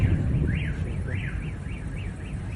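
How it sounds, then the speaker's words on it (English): A car alarm wails in the aftermath of an explosion during the war in Ukraine, its rising and falling siren cycling steadily over a loud, rumbling background. "the car alarms go off"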